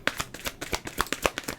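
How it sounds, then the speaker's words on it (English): A deck of tarot cards being shuffled by hand gives quick, irregular riffling and flicking snaps, close and crisp, in a short burst with no talking. "I don't use these decks often because they are very hard to shuffle"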